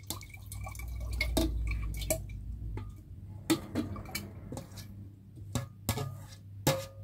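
Banana pulp and fermented rice being poured into a fermentation tank, heard as a low wet pour followed by scattered drips, splats and small knocks against the container, close and fairly quiet.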